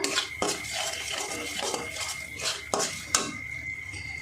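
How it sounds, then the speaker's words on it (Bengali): Spice paste (masala) for a potol and peanut dish being stirred in a pan, with close, scattered scrapes and a few sharp clinks of a spoon against metal over a low steady hum. "সামান্য একটু কষিয়ে নেব মশলাটা"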